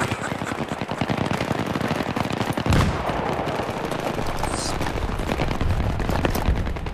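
Rapid automatic gunfire rattles almost nonstop during a Battlefield 3 match, loud close bursts layered with distant shots and a heavier blast midway, all under a dense, busy battlefield din.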